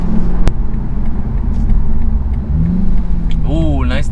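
A 2019 BMW Z4 sDrive30i engine hums and rumbles steadily nearby, then revs up sharply near the end with rising and falling pitch sweeps during a downshift.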